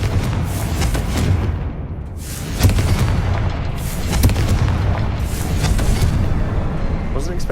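A Confringo blasting spell explodes in Hogwarts Legacy with loud, rumbling game booms and crackling bursts. Dense blast noise fills the whole stretch, with a few sharp impacts standing out.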